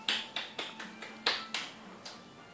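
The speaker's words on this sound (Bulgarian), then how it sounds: "Сега пляскаме." Children's dance-party hand clapping, a series of about eight crisp, evenly spaced claps in a steady rhythm, fairly close and alone with a faint background hum.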